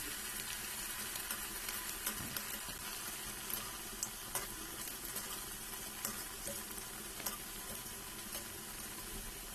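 Heart-shaped vegetable cutlets fry in a pan of hot oil, producing a soft, steady sizzle dotted with small crackling pops, faint and close, with no one talking.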